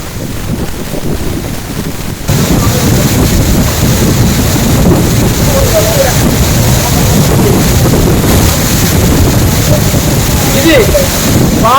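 Amboli waterfall in Maharashtra, heard from below at the foot of the hill: a steady, loud wash of falling water and wind that jumps up in level after the first two seconds and then holds constant.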